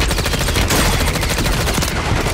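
Rapid automatic gunfire from Call of Duty, loud and dense, sustained bursts running nearly continuously with no pauses.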